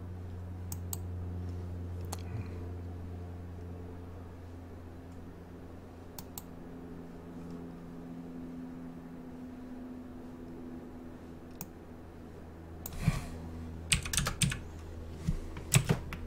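Typing G code on a computer keyboard for a CNC table, with sparse keystrokes early on and a quick burst of clicks near the end over a low steady machine hum.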